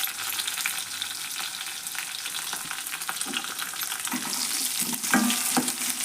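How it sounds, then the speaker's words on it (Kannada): Onion fries in hot oil for a pigeon pea (toor) dal, a continuous close crackling sizzle with occasional stirring clinks and scrapes, no voices over it. "ಸ್ವಲ್ಪ ಉಳ್ಳಾಗಡ್ಡೆ ಎಣ್ಣೆ ಒಳಗೆ ಫ್ರೈ ಆಗಲಿದ್ದು ನೋಡ್ರಿ"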